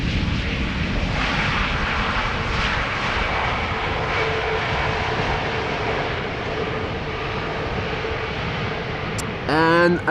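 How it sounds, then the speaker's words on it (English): An SAS Airbus A320neo arriving from Stockholm at Schiphol Airport, its broad, loud engine roar sustained throughout with slowly shifting tone, and a short sharp burst of a different sound right at the end. "More A320neos, this one also from SAS and arriving from Stockholm."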